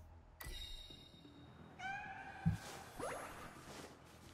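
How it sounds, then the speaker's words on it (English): Two synthetic cat meows from a video game, one near the start and a longer one midway, each a clear tonal cry over a quiet electronic backdrop, followed by a brief whooshing swell. "Oh, another cat."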